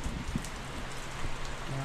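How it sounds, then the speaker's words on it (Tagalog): Heavy rain pours down in a dense, steady hiss with scattered drop impacts, loud and continuous throughout without talk. "Malakas naman po yung ulan."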